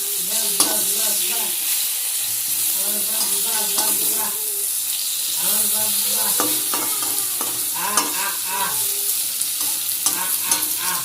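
Eggplant slices sizzling steadily in a frying pan, with a spatula scraping and stirring in repeated bursts over a continuous loud fry hiss, mostly alone.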